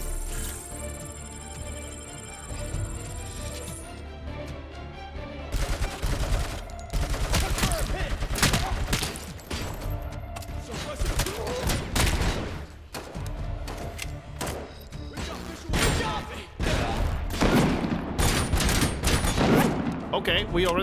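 Video game gunfire in RoboCop Rogue City, with snipers in the fight: dense bursts of loud sharp shots and heavy thuds come repeatedly over a droning backdrop for most of the stretch, with a quieter lead-in at the start.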